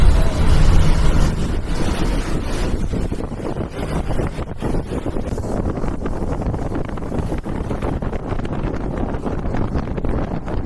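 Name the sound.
strong wind blowing while traveling by bus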